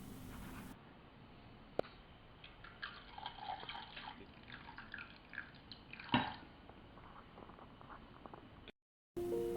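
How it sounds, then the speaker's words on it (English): Water is poured into a saucepan of sugar, a quiet trickle and dribble with small drips and clinks, faint and close, ending in a brief silence. "We now fill the saucepan with sugar and pour just enough water to damp and"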